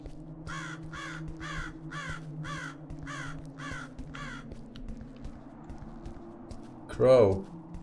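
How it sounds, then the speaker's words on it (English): A crow caws repeatedly in the video game Buried Alive: Breathless Rescue, about eight evenly spaced harsh calls in a steady rhythm over a low ambient hum, followed by one louder, closer caw near the end. "You hear that pesky crow?"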